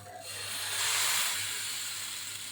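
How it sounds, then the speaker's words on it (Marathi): Amboli batter hits a hot pan greased with ghee over a low flame, a soft hissing sizzle that swells quickly and then settles into a steady fizz. "तर असं हे पीठ आपण घालून घ्यायचं आहे आणि थोडंसं असं अगदी पसरावायचं"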